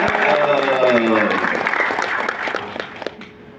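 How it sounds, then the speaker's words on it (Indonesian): Applause at a national coordination meeting for honorary workers, a crowd clapping under a loud voice over a PA system, fading toward the end. "tepuk tangan buat pejuang honorer di depan kita nih ya"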